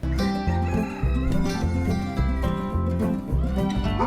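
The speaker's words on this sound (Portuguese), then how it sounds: "acordar com o canto dos pássaros" Rural farm setting with a rooster crowing repeatedly and hens clucking nearby, loud and close against a busy background of other birds and farm sounds.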